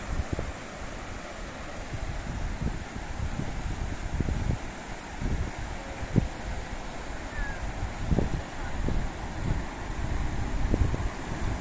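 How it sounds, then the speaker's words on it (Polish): Wind and water sweep across a beach in the evening. A continuous rushing roar with a low, rolling rumble gusts against the microphone, close and fairly even, with no one speaking. "Posłuchajcie tego szumu wody, szumu wiatru, promienie słońca."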